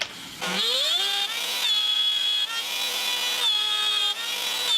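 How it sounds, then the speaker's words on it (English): A router cuts a narrow 6mm-wide, 9mm-deep slot in wood for a scrap-built Telecaster body, a loud close high whine that rises as the motor spins up, then holds steady with brief dips as the bit bites. "I'm going to route a slot which is 6mm wide, which is quite narrow, and 9mm deep"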